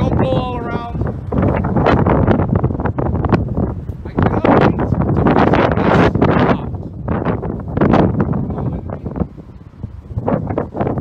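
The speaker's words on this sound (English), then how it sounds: "Very, very windy today." Heavy wind buffets the microphone continuously, a loud roaring rumble with gusts rising and falling throughout.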